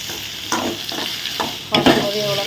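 Vegetables sauté in a hot pan for a chapati egg roll, a steady sizzle broken by several scraping stirs of the spatula, with one louder clatter of stirring near the end; no voices.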